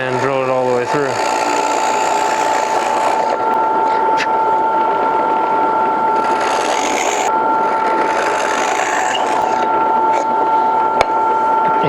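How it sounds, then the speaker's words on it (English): A drill bores through a wooden shop-made knob into a backer board, giving a steady motor whine throughout with two rougher bursts of cutting noise midway. "I just find the center of the groove, essentially, close as I can on the mark, and drill it all the way through."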